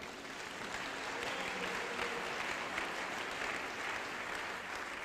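A church congregation applauds steadily for several seconds, a dense wash of clapping from many hands that holds at an even level throughout.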